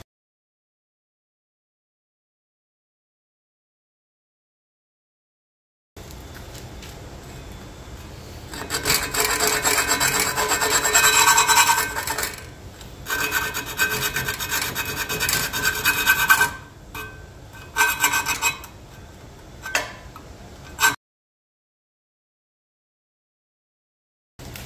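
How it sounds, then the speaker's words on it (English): Grinding holes and slots in metal for mounting bolts on a homemade vintage trailer kickstand: a loud, close, harsh rasping grind in uneven passes with brief pauses, after several seconds of silence. "got to do some precision grinding to make these holes and slots for my mounting bolts"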